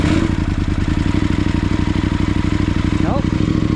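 KTM 890 twin-cylinder motorcycle engine idling after a cold start, a close, loud, steady pulsing thrum with rapid even firing beats and light mechanical clatter, and a brief faint chirp near the end.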